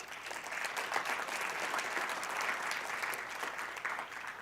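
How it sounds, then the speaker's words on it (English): An audience applauds at a lecture hall talk with dense, steady clapping that holds at an even level throughout, with no voices over it. "No clapping, you're using my time."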